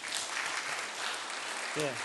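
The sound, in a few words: church congregation applauding the elders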